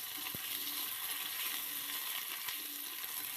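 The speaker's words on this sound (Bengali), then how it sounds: "এবার আদা বাটাটা দিয়ে আলুটা আর একটু সময় ভেজে নিচ্ছি।" Potatoes fry in hot oil with ginger paste, giving a steady bright sizzle throughout, with a couple of faint clinks from stirring.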